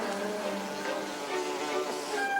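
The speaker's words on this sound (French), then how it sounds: "ces moustiques sont aussi gros que des perruches" Cartoon mosquitoes buzz continuously in a dense, steady whine that fills the whole moment, loud and close, with no talking.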